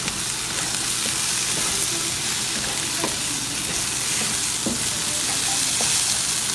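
A spiced Cambodian pork mixture with coconut milk is stirred continuously in a hot pan, a loud steady sizzle and hiss with occasional spatula scrapes and knocks, close and without speech.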